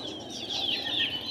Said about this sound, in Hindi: ये टर्की बर्ड की दोनों मादी हैं